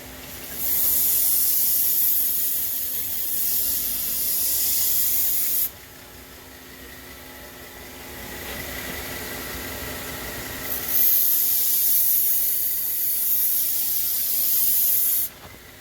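Burr King variable speed belt grinder with platen sharpening a knife on a 320 grit belt: a steady loud hissing grind that pauses briefly partway through, then resumes.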